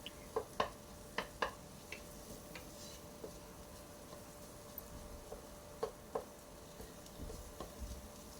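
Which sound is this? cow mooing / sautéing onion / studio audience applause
sautéing onion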